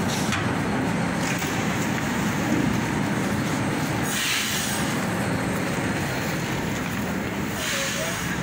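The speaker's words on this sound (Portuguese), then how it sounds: "Tá chegando aí mais um metrô." A São Paulo metro train pulls into Brás station, a loud continuous rumble of wheels on rails with faint squealing that swells and fades across the clip, no voices over it.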